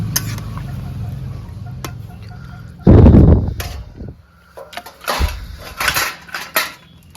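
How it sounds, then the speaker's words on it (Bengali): A metal lid lifts off a pot of village-style chicken cooked with cauliflower, giving a loud burst of steam and clatter, then a few metallic knocks and clinks against the pot, close by and without talk. "ঢাকাটা খুলে দেখে নিই"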